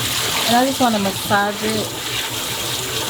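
Cold water runs from a kitchen tap as fresh greens are washed, a steady, rushing splash beneath a person talking close by.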